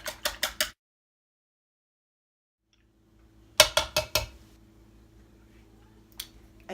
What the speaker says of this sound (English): let's whisk this egg mixture